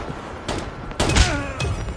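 Gunfire in the mobile shooter Call of Duty Mobile, with a few short bursts of shots at moderate loudness, the strongest around the middle of the moment, over low game background noise.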